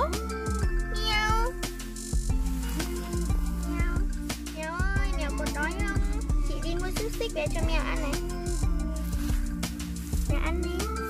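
A cat meows over and over while being fed sausages, its cries rising and falling in quick, close, fairly loud bursts, with a person talking softly in the background.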